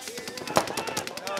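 An HPA-powered airsoft gun fires a rapid full-auto burst, a dense string of sharp cracks at close range with a voice briefly over the shots.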